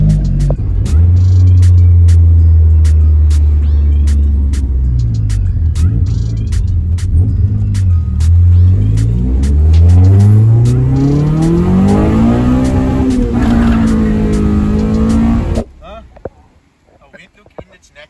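A Toyota Corolla AE82 with a swapped 3S-GE engine drives on wet roads, its engine droning loud and close as it revs up and down through gears, with tyre hiss, before cutting off near the end.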